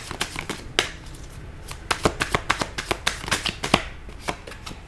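Tarot cards being handled and shuffled up close, a rapid run of crisp riffling snaps and slaps in uneven bursts with no voice over them.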